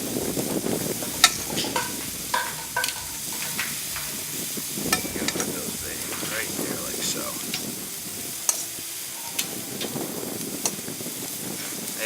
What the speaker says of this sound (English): And you can hear them sizzling away already.